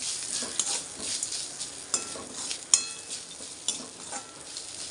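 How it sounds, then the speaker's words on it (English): Fresh coconut is sautéed in a pan for a few seconds, producing a crisp, close sizzle. Several sharp scrapes and clicks of a stirring utensil against the pan come at uneven intervals. "Saute this for a few seconds only."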